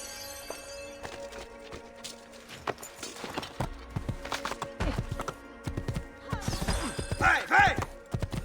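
Rhythmic clip-clop of horse hooves with rustling and clattering, building toward the end with a brief whinny, no talking; from the video game Assassin's Creed 2.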